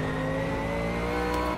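Race car in Automobilista 2 being driven hard through a corner, a loud sustained engine drone with a steady tonal whine and faint tire squeal, with no talking.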